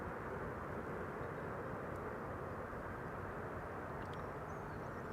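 BA flight 430, a passenger jet arriving from London Heathrow on approach to Amsterdam Schiphol, gives a steady, broad engine roar that holds even and loud throughout, with no talk.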